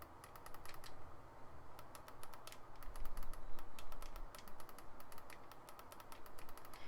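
Rapid, crisp button clicks from a Veho Cideko Air Keyboard Conqueror gamepad, its side left- and right-click buttons pressed in quick irregular bursts, close and clear with no talk.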